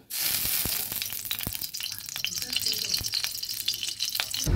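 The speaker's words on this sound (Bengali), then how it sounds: "কড়াইতে তেল দিয়ে এবার দিয়ে দিচ্ছি একটা তেজপাতা আর একটু গোটা জিরে" Hot oil sizzles steadily in a wok as a bay leaf and whole cumin seeds go in after potatoes were fried, a dense close crackle with sharp pops scattered throughout, a few louder spits standing out, no talking.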